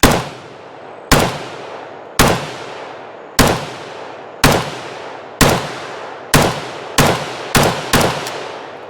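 A Valmet M62S rifle fires ten sharp, loud shots outdoors, evenly spaced at first and then quickening toward the end, each crack trailing off in a short echo.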